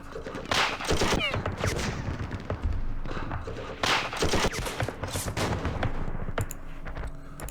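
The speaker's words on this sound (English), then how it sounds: "With all of our machine guns." Machine-gun fire in the Vietnam war game Campaign Series Vietnam, set at the Battle of Ba Ria 1968: repeated loud bursts of automatic gunfire in rapid clusters, with fusillade-like volleys and some heavier thumps.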